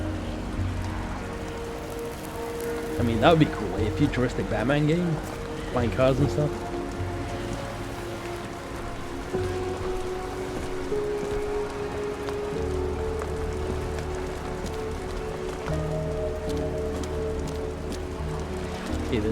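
Steady rain falls in the dreary, hazy city of the video game Nobody Wants To Die, a constant patter beneath someone talking, with a few brief tonal game sounds rising through it.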